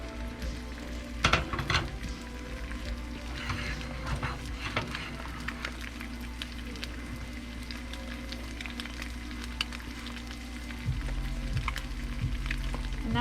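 An egg cooking in a pan, steadily frying and sizzling at low volume, with scattered scraping and tapping as it is stirred and a low steady hum underneath.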